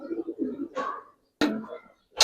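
Giribaz coloring pigeons coo in low, throaty bursts close by, with short pauses between calls and sudden rustling, handling noises.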